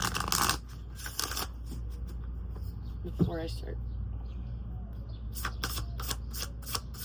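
Oracle cards being shuffled in short papery bursts near the start and end, with a brief spoken phrase in between.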